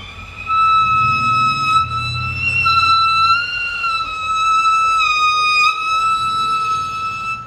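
A violin sustains airy, whistle-like harmonic tones, bowed with a finger lightly touching the string, each note gliding steadily, loud and close, with no speech.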